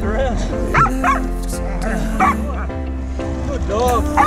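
A pig hunting dog barks and yips repeatedly in short, excited bursts with whimpering tones, close by, over a low steady hum, while a person talks nearby.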